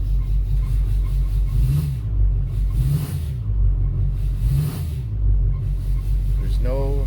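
A swapped Duramax LMM diesel engine idles with a deep, steady rumble and pulsing throb, a faint squeal rising briefly near the end.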